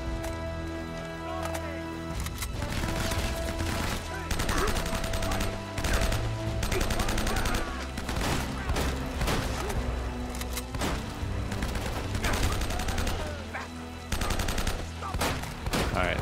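Sustained gunfire from the video game Uncharted: Drake's Fortune, including M4 rifle fire, crackles in dense rapid bursts with little pause, loud and continuous throughout.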